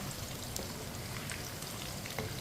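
Pakoras fry in hot oil while being flipped, a dense, even crackle and sizzle with a few sharper pops, fairly quiet and continuous, with no talking.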